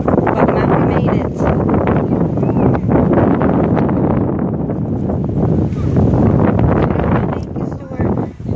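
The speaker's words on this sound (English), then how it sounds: "we're still getting the gust coming through" Strong wind gusts buffet the microphone in a steady, loud roar with rising and falling surges outdoors at a resort after a storm, the blustery noise continuous and close throughout.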